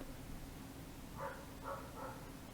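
A dog, or a voice mimicking one, gives a few short barks and yelps spaced over a couple of seconds, fairly faint against a steady low background hum.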